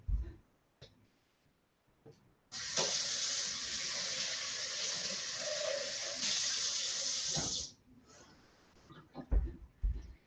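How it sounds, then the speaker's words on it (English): Water runs steadily from a tap into a pot to rinse out leftover sauce, a loud continuous splashing stream lasting about five seconds, with faint clicks and kitchen handling noises before and after. "I'll put some water in here so I don't waste any of the sauce"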